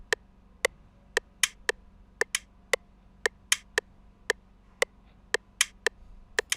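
Metronome clicking steadily in a beat-making session for an amapiano track, sharp evenly spaced ticks roughly twice a second, close and clear over a faint low hum, a few slightly stronger accented clicks among them.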